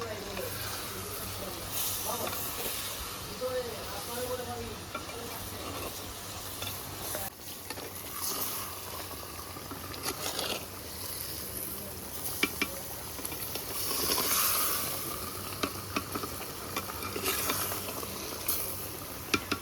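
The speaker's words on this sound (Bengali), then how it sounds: "এখানে সুন্দর করে কষিয়ে নিয়েছি" Cumin and coriander powder are stir-fried in a pan, a steady low sizzle with repeated scraping stirs over about twenty seconds and faint kitchen sounds in the background.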